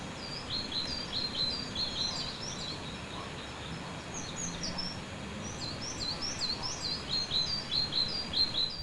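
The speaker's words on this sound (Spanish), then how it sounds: "no oías más que los pájaros" Many birds sing and chirp through quiet paths in a Spanish cemetery, with no machine noise, their high twittering calls steady and near across the whole stretch over a soft low ambient rumble.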